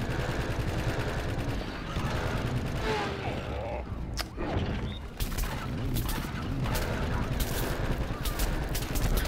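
Bursts of rapid gunfire from a shooter match in Plants vs Zombies Garden Warfare 2 rattle almost continuously over layered game effects, with a brief lull in the middle before the shooting resumes.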